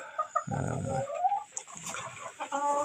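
Hens cluck and murmur inside a hen house with a large flock, a busy layered chorus of short calls up close, one louder outburst standing out, and no talk.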